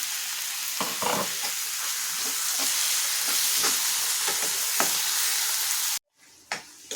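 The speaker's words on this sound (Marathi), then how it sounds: "आता यात आपल्याला टाकून द्यायचं आहे कांदा आणि टोमॅटोची जी प्युरी केली आहे ती आपण टाकून देऊया" Onion and tomato puree sizzles loudly and steadily as it fries in oil in a pan for a spicy vegetable dish, with a few stirring scrapes, then the frying cuts off abruptly near the end.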